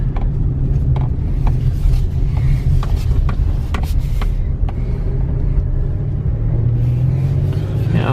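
A 2016 GMC Canyon 4x4 pickup, a repairable salvage truck, drives along with a steady low engine and road rumble, then slows under braking, heard from inside the cab with no talk.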